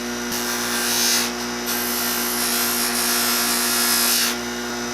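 A soft cotton buffing wheel spins steadily while a handmade crappie A-rig lure is polished against it, giving a continuous motor whine with brief louder surges as the piece is pressed in.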